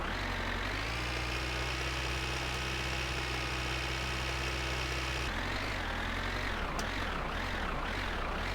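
The tractor engine in the video game My Winter Car runs as a steady, loud, droning hum with a low throbbing pulse, shifting in pitch and texture partway through.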